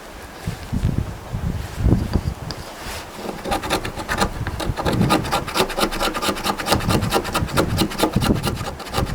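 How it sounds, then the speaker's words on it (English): A modified small screwdriver scrapes fatwood in quick, repeated rasping strokes, close and fairly loud, with a steady scratchy texture and no talking. "This is fat wood. I'm going to scrape some with that little screwdriver modified."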